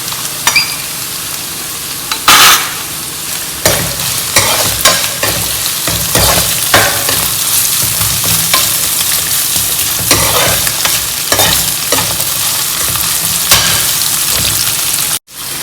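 Ginger, garlic and green chilies frying and being stirred in a pan for Kerala prawn pickle, a steady loud sizzle throughout with repeated scraping stir strokes and no talking.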